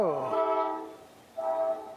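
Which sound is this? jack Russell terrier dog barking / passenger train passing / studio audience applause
passenger train passing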